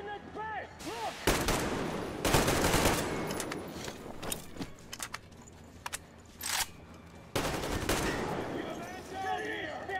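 Rapid bursts of gunfire from the Metro Exodus video game, with close, loud repeated shots in clusters between quieter gaps, accompanied by a voice speaking in the background.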